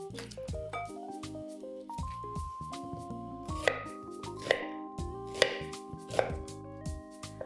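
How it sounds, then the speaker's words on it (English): A knife chops an onion on a cutting board in a steady series of sharp thuds, with soft music playing underneath. "We'll start by chopping one onion"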